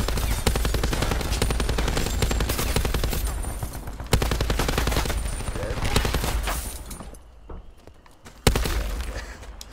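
A light machine gun in Call of Duty: Modern Warfare fires long, loud rapid bursts of dense automatic fire, a brief lull, then a sharp burst again, with someone talking during the shooting.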